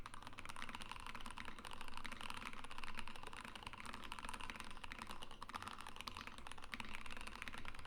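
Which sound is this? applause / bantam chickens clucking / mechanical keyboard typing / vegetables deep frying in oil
mechanical keyboard typing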